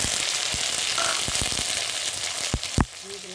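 Green chilli, ginger and cumin paste sizzling steadily in hot oil for a chana dal recipe, with a broad crackling hiss throughout and a few sharp spatters and utensil knocks near the end.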